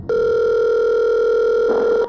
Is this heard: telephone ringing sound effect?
yes